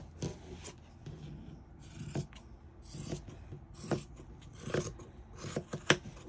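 Scissors cut through fabric for a baby hat band in repeated close snips and rasping strokes, a rhythmic series of soft crunches at fairly regular intervals with no talking.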